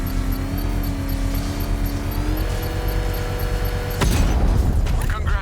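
Bomb set off by a power winch in Batman Arkham Knight, a sustained vehicle-like engine hum that bursts into a loud, broad explosive boom about four seconds in and rumbles on, with a voice heard faintly.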